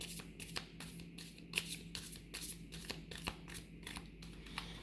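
Tarot cards being shuffled to clear the deck, a series of quick soft riffling snaps and slides close up, with faint room hum beneath and no talking.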